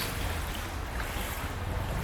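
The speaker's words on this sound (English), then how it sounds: "Here's another big set of waves coming in." Boat-wake waves wash through a monsoon-flooded street in Pattaya, a steady churning slosh of water with wind noise on the microphone, continuous and fairly close, with no talking.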